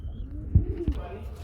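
Pigeons kept in a loft coo softly in a couple of low, brief bursts near the middle, with faint bird chirps and background murmur around them.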